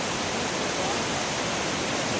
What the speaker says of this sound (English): And that's the Urubamba River. It flows into the Amazon